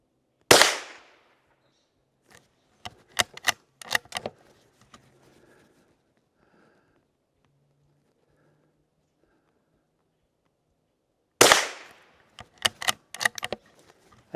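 Rifle shots ring out at an outdoor shooting range: one loud sharp crack near the start and another about eleven seconds later, each followed by faint clicks and handling sounds, with quiet between.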